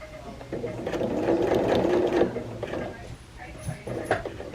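A sewing machine runs a straight stitch through a denim jean skirt patch: a close, continuous mechanical whirr for about two seconds, then several shorter bursts of stitching.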